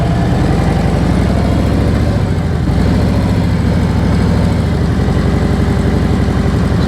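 Motorcycle creeping along at walking pace with the clutch slipped in the friction zone and light rear braking, its engine a loud, steady, close low-pitched thrum that barely changes throughout.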